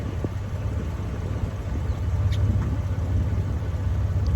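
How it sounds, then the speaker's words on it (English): A 2001 Jeep TJ Sahara with a 4-liter engine idles with its muffler running, a low steady rumble growing slightly louder toward the end, heard close with no talk. "I get in because I want you to hear the motor,"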